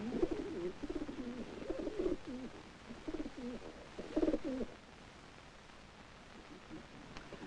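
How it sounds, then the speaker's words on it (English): A racing pigeon cooing in a quiet setting, soft low rhythmic coos in several short phrases over the first few seconds, close but faint against a hiss of background noise, then fading to near silence. "This is a racing pigeon."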